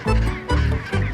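Seabirds give three loud, harsh squawking calls in quick succession, each a honking burst separated by brief pauses, close by with no talking.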